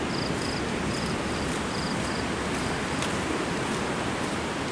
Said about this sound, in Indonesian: Masih ada suara jangkrik di sini.